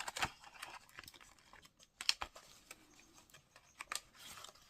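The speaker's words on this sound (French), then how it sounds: "Alors, je vais vous les déballer pour voir." Craft products from a Studio Light haul being unpacked from their packaging, with soft close crinkles, taps and tearing rustles in quick irregular bursts, fairly quiet.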